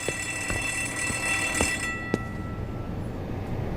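A steady electronic alarm rings in an indoor scene from a dubbed drama series, its sustained tone continuing for a couple of seconds and then cutting out, with soft background noise remaining and no voices over it.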